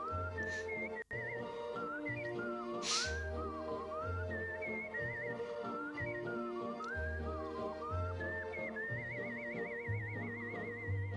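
A person whistles a lilting, wavering melody from a 1957 Eurovision song, clear and up front over a soft, steadily pulsing low instrumental backing, with no speech.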